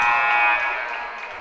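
A loud electronic buzzer sounds at the end of a quarter in a junior varsity boys' basketball game, one sustained tone that holds and then slowly fades over gym noise.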